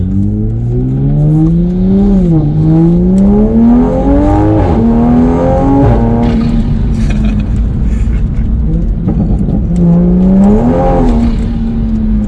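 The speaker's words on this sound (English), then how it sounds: "Man, we're spinning like crazy." Tuned Toyota A90 Supra accelerating hard on a dirt-dusted surface with its tires spinning, loud close engine drone rising and dipping in pitch with gear changes and wheelspin, continuous for about twelve seconds.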